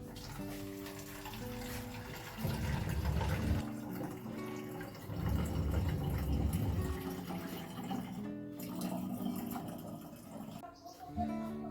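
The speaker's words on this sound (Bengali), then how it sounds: "কটা জলের বোতল এবার ভরবো" Water rushes from a tap into drinking bottles being filled at home, a steady splashing flow that swells in bursts beneath continuous background music.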